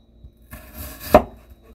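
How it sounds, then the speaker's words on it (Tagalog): A knife slices through a potato on a cutting board, with a soft pass and then one sharp, close chop. "And now guys, slice po natin yung ating potato."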